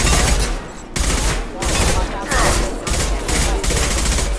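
Rapid bursts of synthetic gunfire from the video game Mass Effect 2 crackle loudly and continuously, broken by brief pauses, with a dense rattling machine-gun quality.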